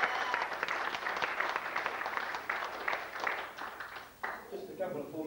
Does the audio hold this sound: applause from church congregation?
yes